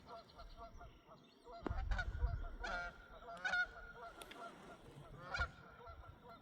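A flock of geese flies in over a Missouri valley lake, honking repeatedly at moderate distance, with irregular overlapping calls and some wind rumble mixed in.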